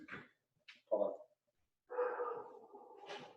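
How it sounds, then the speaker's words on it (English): A dog gives a few short, close barks and yips indoors, followed by a longer whining bark, with brief silences between. "What's she barking at?"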